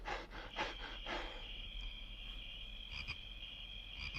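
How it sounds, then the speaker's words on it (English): A played cricket-chirp sound effect during a live stream: a steady high chirping trill that runs throughout, with a few rough croaking pulses at the start, moderately loud and alone without talk. "This is the crickets."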